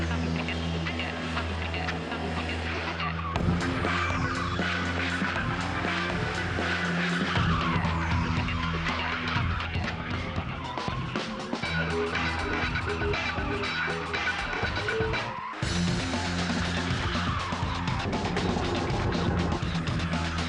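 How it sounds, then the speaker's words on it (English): A BMW spins at speed around two people in a controlled sidewind stunt, tires squealing and skidding loudly and continuously over a roaring engine for the whole stretch, with a sharp break near the end. "he's going to take the same BMW in a controlled manner, at speed, and spin it around the two of them"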